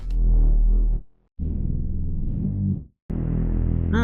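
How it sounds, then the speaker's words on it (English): Three sustained notes of a thick, buzzing Reese bass synth from Serum 2, deep and wobbling, each cut off by a brief silence. "Now let's open Serum 2 and find a good Reese bass."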